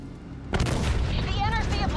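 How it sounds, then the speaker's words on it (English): Missile barrage explosions in the Call of Duty: Black Ops 3 campaign, a sudden heavy boom that erupts halfway through and rolls into sustained rumbling blasts with debris, loud and close, under game voices. "Launched a missile barrage."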